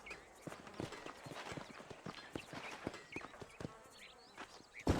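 Rhythmic horse hoofbeats clip-clop steadily at a walking pace in the video game Red Dead Redemption, fairly close, with a sharp louder knock near the end.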